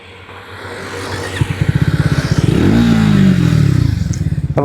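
A Triumph Tracker 350 motorcycle with ride-by-wire throttle revs hard in second gear while riding, its engine pulses rising into a steady climbing drone that then eases off, loud and close.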